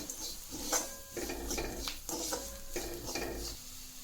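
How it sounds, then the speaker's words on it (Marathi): Spoon stirring sprouted mung bean curry with crushed roasted peanuts and salt in a pan, scraping and clattering in short irregular strokes against a soft sizzle, close and moderately loud. "याला मिक्स करून घेऊ."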